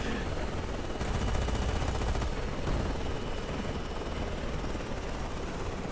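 A helicopter in the video game Carrier Command 2: its rotor chops steadily and loudly, with bursts of rapid gunfire layered over it in the middle.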